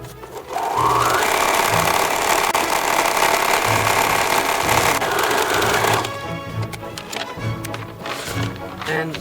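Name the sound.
sewing machine sewing paper-pieced fabric strip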